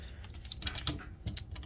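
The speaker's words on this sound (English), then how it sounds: "Tires rotate around as well on really nice kind of clicky joints. You can kind of hear it there." The rotating tires of a Transformers Cybertron Landmine toy turn on clicky joints, giving a brief cluster of faint, close, light plastic clicks.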